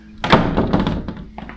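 A solid closet door in a newly built D.R. Horton Archer II model home in Palmetto, Florida, shuts with a single close, firm thud followed by a brief softer knock.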